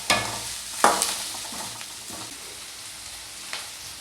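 Chopped onions and curry leaves hit hot oil in a pan, giving a steady sizzle with a few sharp clinks and stirring scrapes as a spoon works them around.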